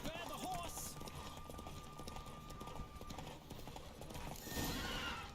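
A galloping horse in The Witcher 3 pounds along in fast, close hoofbeats and gives a loud neigh near the end, with game sound and speech around it.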